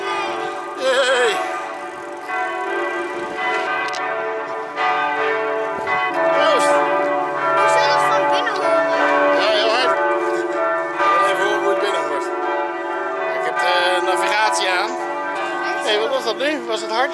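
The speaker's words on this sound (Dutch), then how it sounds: "Kijk, bellen die luiden." Village church bells ring continuously, overlapping peals clanging with rich, lingering tones, loud and sustained throughout.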